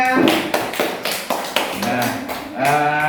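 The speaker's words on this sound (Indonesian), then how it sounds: "Iya, tepuk tangannya." Children clapping hands in a classroom, a series of distinct rhythmic claps at roughly half-second intervals, close and fairly loud, mixed with children's voices and a teacher talking over them.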